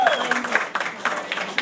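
Comedy-club audience applauding at a stand-up show: a brief burst of dense clapping with a whistle or two and crowd noise, mixed with some voices.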